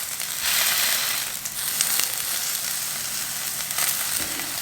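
Sea bass fillet frying in a hot pan, pressed down with a fish slice, giving a loud, steady sizzle and crackle that swells and eases slightly, with a few scraping touches and no voices.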